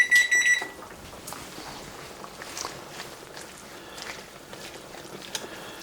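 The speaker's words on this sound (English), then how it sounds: "Let me turn that timer off." A steady electronic kitchen timer beep sounds for about half a second at the start, then stops, leaving soft kitchen clatter and faint room noise.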